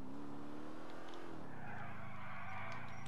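A car engine revs and tires skid and squeal in GTA IV, the engine note rising then settling as the car slides, loud and close with no talking.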